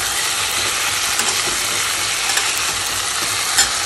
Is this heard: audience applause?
no